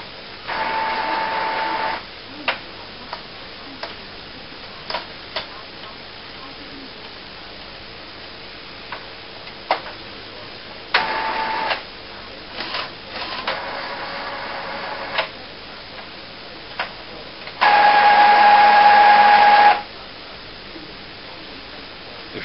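An Epson SX215-series inkjet printer charges ink from CISS cartridges with intermittent mechanical whirring, ticking and clicking, short bursts scattered over twenty seconds plus one longer steady buzzing stretch near the end, heard close with no speech.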